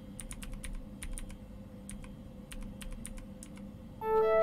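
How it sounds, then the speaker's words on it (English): Computer keyboard typing in the horror game Fears to Fathom, quick bursts of individual key clicks in an uneven rhythm over a quiet low room hum, closing with a brief electronic tone. "what was bro typing up?"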